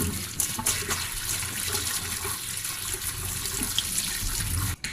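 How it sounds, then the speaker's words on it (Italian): Fava beans are rinsed under running tap water, a loud, steady splashing stream with a brief break near the end and no talking. "non mi resta che sciacquarle sotto acqua corrente e poi procedere con la ricetta"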